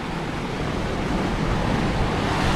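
Ocean waves surge and crash against a shore where tide pools form and the water rises and falls quickly, a steady loud roar of surf with wind buffeting the microphone throughout.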